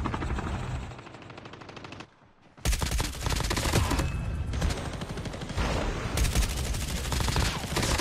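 Rapid automatic gunfire from Call of Duty Mobile plays almost continuously in loud, dense bursts, with one brief pause before the shooting resumes at full intensity.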